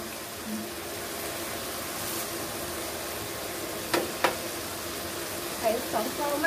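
Steady close sizzle of eggs hitting a hot pan of stir-fried zucchini with pork and squid, with a couple of sharp clicks partway through and faint scraping of stirring near the end.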